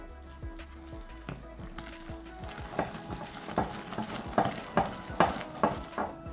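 Melted butter being stirred into cake batter in a bowl, heard as soft wet sloshing and rhythmic spoon strokes that grow more distinct toward the end, close and fairly quiet.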